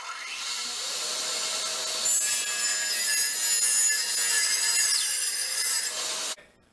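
A hand saw or power saw cutting through oak bourbon barrel wood for shelf pieces, a steady loud rasping drone lasting about six seconds before stopping abruptly, close up with no talking.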